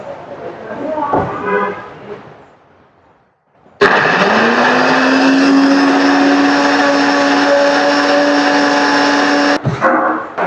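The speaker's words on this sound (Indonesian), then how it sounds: "sekarang kita haluskan dia dengan menggunakan blender." A kitchen blender grinds dried moringa leaves into powder, a loud steady motor whir with a rising pitch that settles into a sustained drone for about six seconds, preceded by brief talk and a pause.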